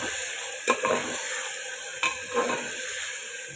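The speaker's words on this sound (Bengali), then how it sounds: "মশলাটা একটু ভালোভাবে আগে কষিয়ে নেব" Spice paste for mutton curry sizzles in a pan under a steady frying hiss, with two distinct scraping stirs of a spoon against the pan.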